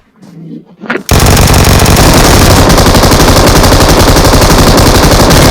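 Rapid automatic gunfire from the mobile battle-royale game PUBG Mobile erupts after a second of faint sound, then continues as a loud, sustained burst until the end.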